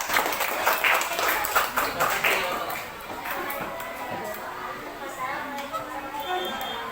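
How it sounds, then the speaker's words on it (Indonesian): A classroom group claps together, a loud burst of many hands in the first few seconds that thins into scattered taps and shuffling, with a voice talking over it. "Oke, tepuk tangan."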